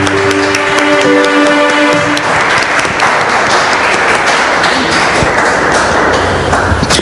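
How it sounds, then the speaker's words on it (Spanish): A church congregation claps loudly and steadily throughout, a dense, sustained wave of applause with faint sustained tones beneath it at the start. "Dale un fuerte aplauso al Señor"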